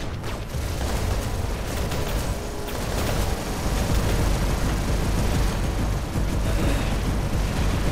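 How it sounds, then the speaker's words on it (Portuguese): A space weapon firing in the War Robots video game, heard as loud, continuous booming blasts and explosive gunfire that fill the whole stretch without letting up. "Ah, também tem o tiro. Tiro espacial."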